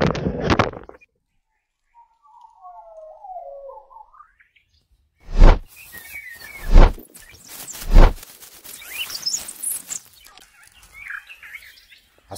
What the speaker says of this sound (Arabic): هذا عصفور التين بالشجرة قدامي.